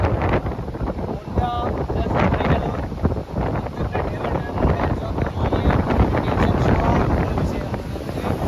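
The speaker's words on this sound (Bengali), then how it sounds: "এত হাওয়া দিচ্ছে কিছু শোনা যাচ্ছে না" Strong gusting wind on the beach at Digha buffets the microphone in a constant loud roar, with faint voices barely audible beneath it.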